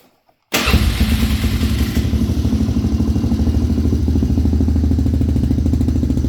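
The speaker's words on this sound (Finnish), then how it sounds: "No ainakin nuo putkutukset on nyt vähän niinku vähän isommat kuin aikaisemmin." A motorcycle engine fitted with a modified dB killer in its exhaust fires up abruptly after a moment of quiet. It then settles into a loud, steady, close-up idle with a rapid pulsing exhaust beat.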